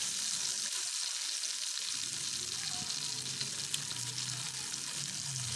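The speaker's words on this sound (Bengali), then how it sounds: "মূলোটা একটু নাড়াচাড়া করে ভেজে নিচ্ছি" Radish frying in tempered oil while being stirred, giving a steady soft sizzle with faint scraping, alone and fairly quiet throughout.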